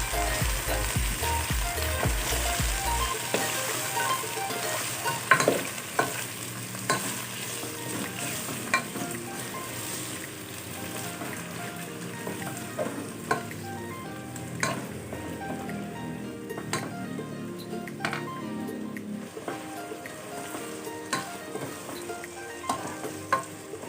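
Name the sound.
shredded chicken sizzling in a cooking pot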